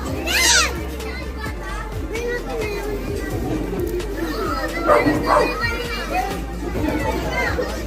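Children shouting and playing outdoors in a busy neighborhood with dogs barking among them, lively overlapping kids' voices and chatter throughout, with louder bursts of yelling.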